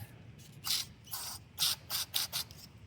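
Compressed air blasting gunk out of a carburetor part on a 400cc drag bike: six short hissing bursts in an uneven rhythm, close and fairly loud over a quiet background.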